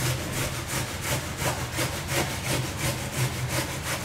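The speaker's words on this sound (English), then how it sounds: "So what are you doing now? Grating carrots?" Carrots are grated by hand in an outdoor kitchen, a steady rhythmic rasping scrape repeating about three times a second, close and continuous without speech.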